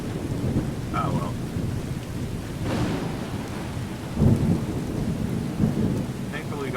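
A thunderstorm with rain in the video game Skyrim: a steady patter of rain under several rolling rumbles of thunder, with a louder crack near the middle and more distant grumbles toward the end, and no voices.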